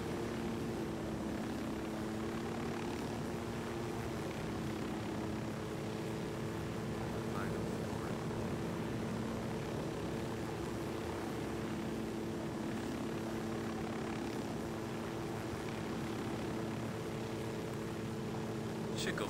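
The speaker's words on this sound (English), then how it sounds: "Flies just like the helicopters in Battlefield." A helicopter in Ghost Recon Wildlands flies with a constant droning rotor and engine hum, steady and loud throughout, with speech faintly present over it.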